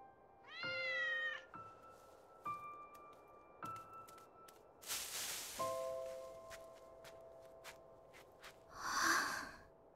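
A cat meows several times, short and fairly close, separated by pauses and soft rustling, with a brief burst of noise in the middle.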